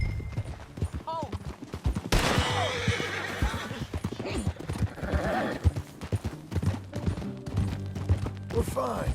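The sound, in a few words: horse galloping and neighing in video game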